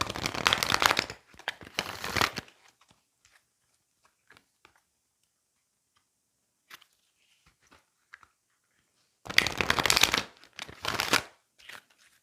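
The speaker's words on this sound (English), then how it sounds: "Okay, one more shuffle." Two bursts of oracle card deck shuffling, riffled and crisp, separated by a long quiet stretch; one quick flurry at the start and another near the end.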